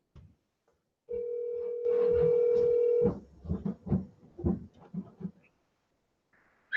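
A phone call being placed to someone's brother: a steady tone, then a louder held tone, followed by a quick run of dialing beeps, close and clear with no speech.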